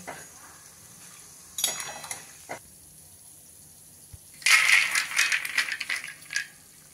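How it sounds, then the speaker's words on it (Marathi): Peanuts frying in hot oil for roasted rice flakes chiwda, giving bursts of crackling and rattling, quiet at first and then a louder, denser flurry of crisp pops near the end. "दाण्याचा रंग बदलतो आणि दाणे फुटल्याचा आवाज येतो तळताना."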